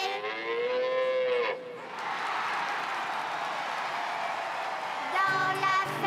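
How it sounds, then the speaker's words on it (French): Cows mooing on a farm in a French children's cartoon, a long low moo followed by a softer one, then a brief burst of other animated sound near the end. "Dans la ferme à Mathurin, I-A-I-A-O, il y a des centaines de vaches"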